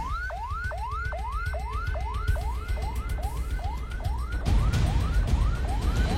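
Ambulance siren stuck in heavy city traffic near a bridge, a loud, rapid rising whoop repeating about twice a second, heard up close over the rumble of engines and road noise.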